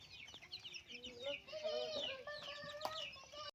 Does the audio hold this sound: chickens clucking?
yes